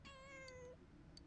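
A cartoon cat in a video game gives a single clear, tonal meow, followed by a faint chirp against a low background hum.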